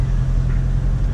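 Inside a Dodge Demon, the engine gives off a deep, steady low rumble heard close from the cabin, with a brief faint noise near the end.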